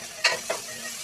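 Salt and spices hitting a hot pan, two quick bursts of sizzle and scraping over a soft steady hiss, brief and close, without talk.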